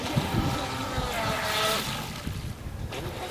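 A remote-controlled motorboat runs out across open water, a steady windy whir mixed with splashing and breeze noise as people talk nearby.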